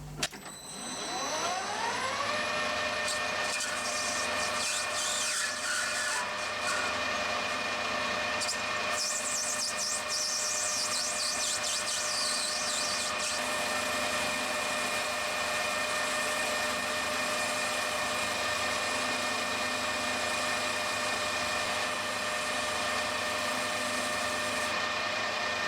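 Scrap brass stock being faced on a lathe, a steady loud machining whine with sustained tonal harmonics and broadband cutting noise running continuously throughout, no voices.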